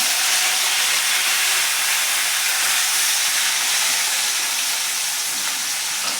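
Chopped onions and green chillies sizzling steadily in hot oil with asafoetida in a pan, a loud continuous hiss throughout without pause.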